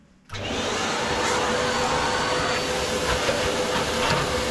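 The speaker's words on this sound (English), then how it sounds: "Vacuum is ready." A vacuum cleaner switches on after a moment of quiet and runs loud and steady, sucking up ash and dust while a Mendip Churchill wood-burning stove is stripped and cleaned.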